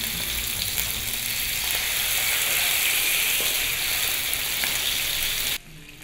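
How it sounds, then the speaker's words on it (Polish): Goose breast sizzles and crackles steadily in a hot dry pan, a close, dense frying hiss that holds constant before cutting off abruptly. "Smażymy tak długo, aż skóra gęsi będzie cienka."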